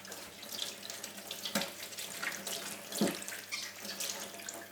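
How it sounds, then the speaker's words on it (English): Tap water runs steadily into a sink while food is rinsed under it, a continuous close splashing stream with a few louder splashes as the food moves through the flow, with no talking. "wash off the danger bits. I mean, rinse the whole thing."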